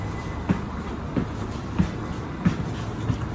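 Montreal metro Azur train running, with faint regular clicks from the wheels about every half second over a low steady rumble, heard from inside at moderate volume.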